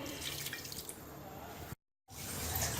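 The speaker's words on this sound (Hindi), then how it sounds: "अब हम इसमें पानी डालेंगे" Water pours onto mutton in a pressure cooker, a close splashing, trickling stream that cuts out abruptly for a moment, then resumes.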